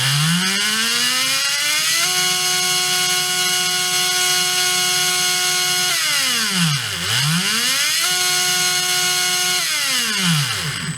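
A brushless RC motor on a freshly charged battery during an RPM test: a loud steady whine that climbs in pitch, holds, then drops away and revs back up again.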